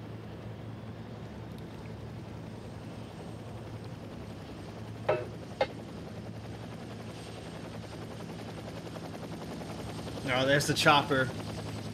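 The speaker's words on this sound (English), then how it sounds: "there's the chopper, just came into frame" A helicopter in the racing game Gran Turismo 7 drones as a low steady rotor hum throughout, with a few brief sharp clicks and a burst of noise near the end, a voice briefly speaking.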